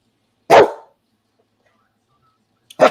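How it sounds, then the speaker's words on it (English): A dog barks twice at close range, two sharp loud single barks separated by a couple of seconds of silence. "This dog be trying to fight me, y'all."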